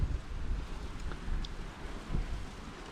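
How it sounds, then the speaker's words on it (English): Gusty wind buffeting the microphone outdoors, a low rumbling roar rising and easing in waves, with no voices. "It is a bit windy today"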